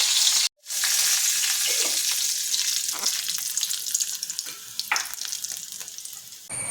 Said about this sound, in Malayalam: വെളുത്തുള്ളിയും കടുവെല്ലാം കൂടി വറുത്തിടണം.